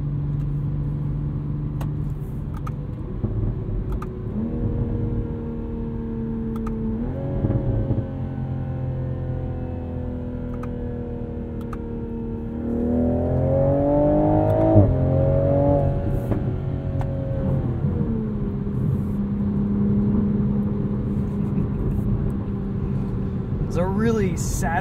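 A 2021 Toyota Supra 3.0 engine revs and climbs through its gears, rising in pitch then dropping at each shift, loud and close with a voice talking over it.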